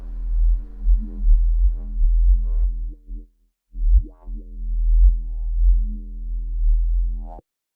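Neuro bass synth patch with a crunchy, paper-like high end added by an erosion effect, playing a phrase of growling sustained notes with short pitch sweeps, loud and alone with a brief gap midway.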